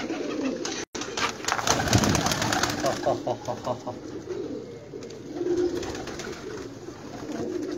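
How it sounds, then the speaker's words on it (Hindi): Soft, rhythmic cooing of pigeons close by, mixed with rustling, fluttering and a voice talking. "बकाया सारे बड़े कबूतर ने"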